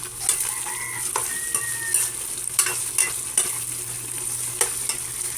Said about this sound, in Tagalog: Mikos ulit natin yung giniling.